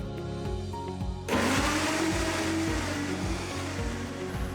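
A blender switches on abruptly after a quiet second and runs loud and steady, its motor whirring and churning continuously to the end.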